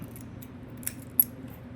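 Scissors snip through the straightened, lined-up wires of an Ethernet cable end, two short sharp cuts standing out over a quiet room hum before an RJ45 connector goes on.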